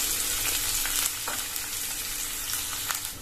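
Onion sizzles and fries steadily in a pan of sautéed garlic while cooking chilli idli, a continuous close crackling hiss with faint stirring scrapes and no voices.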